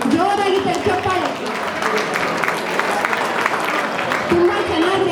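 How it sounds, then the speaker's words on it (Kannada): Audience clapping at a Rajyotsava stage show, a dense patter of applause running throughout under a loud voice talking over it. "ಜೋರಾಗಿ ಚಪ್ಪಾಳೆ."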